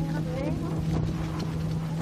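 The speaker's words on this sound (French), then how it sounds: "Ah, le vent!" Steady wind buffets the microphone outdoors during a night sky observation of an eclipse near the Moon, a continuous low rumble with a humming tone and a voice speaking over it.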